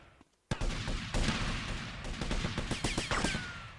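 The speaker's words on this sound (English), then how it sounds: "Someone's shooting at me." Gunfire in Grand Theft Auto Vice City, bursting in suddenly after a brief hush as a loud, dense volley of rapid shots and scattered cracks continuing to the end.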